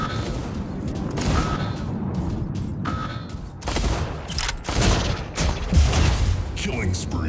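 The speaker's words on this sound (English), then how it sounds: "Incoming fire." Incoming weapon fire in the Mech Arena robot combat game, rapid bursts of gunfire and mechanical clatter with thuds, fairly loud and continuous, while a voice announces over it.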